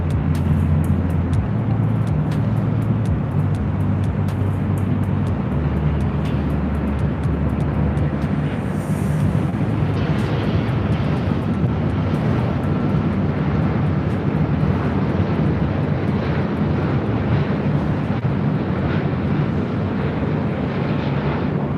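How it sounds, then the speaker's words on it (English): An Air France Boeing 777-200ER airliner arriving from Paris at LAX roars loud and steady throughout, a broad continuous jet rumble with deep low-end drone that swells slightly midway as the heavy jet passes close overhead. "Air France coming in from Paris. It's a 777-200ER."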